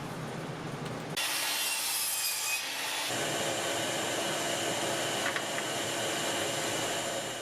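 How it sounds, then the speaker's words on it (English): A miter saw set to a 3-degree angle cuts a wooden slat for a plant stand, with a steady, close, harsh rasping whine that starts abruptly and continues without any talk. "The design of the plant stands calls for a 3-degree taper, so I set my miter saw to a 3-degree angle."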